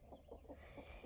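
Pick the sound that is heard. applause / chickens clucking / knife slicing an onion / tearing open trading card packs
chickens clucking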